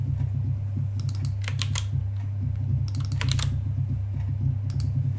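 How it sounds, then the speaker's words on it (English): Fast, uneven keystrokes on a computer keyboard come in bursts over a steady low hum, while writing COBOL code that calls C functions. "Oh, I typed in display wrong."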